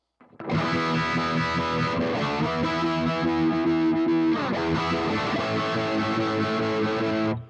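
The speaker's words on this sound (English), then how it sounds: "it gives you that warbly kind of phase thing. It's almost like yow, yow, yow." Distorted electric guitar through a Boss ME-90 Uni-Vibe modulation effect, sustained chords with a warbly, pulsing phase sweep, loud and close with no talking.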